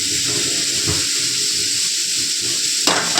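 Onions softening in a hot pan with water, a steady close sizzle and hiss with faint bubbling, a sharper burst of sizzle near the end.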